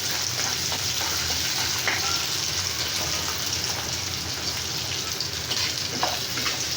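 Figs are frying in a pan with green chilies, garlic and ginger in a home kitchen. A loud, dense, continuous sizzle and crackle sounds close by, with occasional stirring scrapes and no talk.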